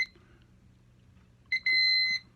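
Thermco ACC895WRFT wireless temperature sensor unit in alarm mode gives a short electronic beep, then a longer steady high-pitched tone after a brief pause, close and clear over quiet room hum.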